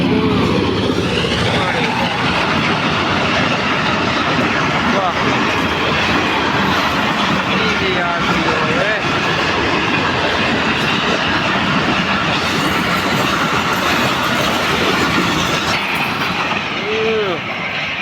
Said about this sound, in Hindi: अच्छा अच्छा ट्रेन आंदी देखो